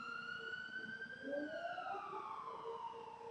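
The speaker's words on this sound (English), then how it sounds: "The fire siren's going off." A fire siren wails outside, faint and distant, its tone sweeping slowly up and down in steady cycles with no voices over it.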